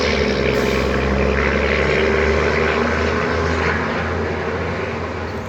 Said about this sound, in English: A lot of loud engines today.